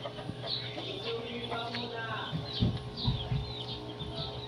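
Native chickens resting in the shade of a backyard coop give soft, scattered clucks and short calls at close range, over a steady low rural background hum.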